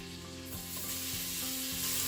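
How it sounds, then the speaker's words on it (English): Bacon sizzles steadily in melted butter inside a pressure cooker at nearly full heat, a continuous broadband frying crackle that grows slightly louder, with a faint low hum beneath. "So now the butter's suitably melted and the temperature's up to nearly full heat, we can add the bacon."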